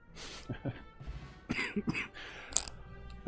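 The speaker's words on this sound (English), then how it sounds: "Excuse me, coughing." A few rough coughs and throat-clearing bursts close up, spaced irregularly, with faint murmuring between them.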